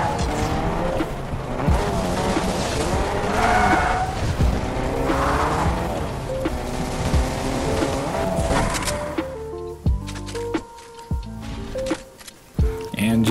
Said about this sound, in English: it's definitely quicker if you take a vehicle and run through these crops